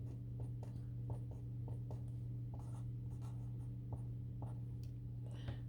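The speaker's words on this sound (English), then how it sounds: "Go ahead and draw those negatives." A pen scratches on paper in short rhythmic strokes while simple integer models are drawn, faint and close over a steady low hum.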